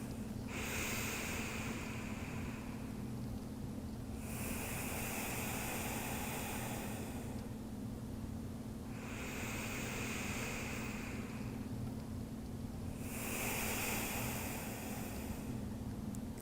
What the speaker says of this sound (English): I'm going to go through a few deep breaths